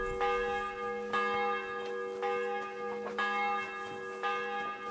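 Church bells ring in the video game Kingdom Come: Deliverance II, steady resonant strikes about once a second with long sustained overtones, moderately distant and alone.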